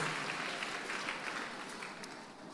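An audience at a lunch-hour church fellowship applauds for children, with a continuous steady wash of clapping that fades a little toward the end.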